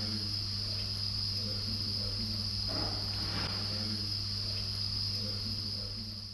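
House crickets at an insect farm chirp in a dense, continuous high-pitched drone under a steady low hum, with a few soft bumps and no voices.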